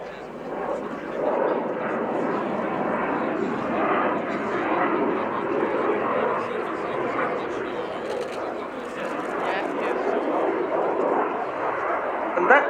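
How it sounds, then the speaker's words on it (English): Loud, continuous roar of a Sukhoi Su-27's twin Saturn AL-31F turbofan engines passing overhead at an air display, a broad rushing rumble that holds steady throughout, with crowd sounds faintly beneath. "The two Lyulka, or now Saturn AL-31F turbofans."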